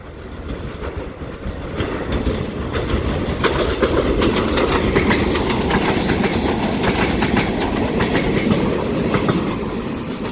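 Four-car EMU500 electric commuter train set in a special livery rolling past on the Yilan line, a steady loud rush of wheels with rhythmic clickety-clack and rail noise sustained for the whole pass.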